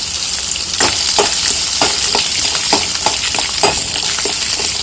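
Onion and garlic sautéing in oil for a Tamil garlic thokku, a loud, close, constant sizzle with repeated stirring scrapes through it and no talking.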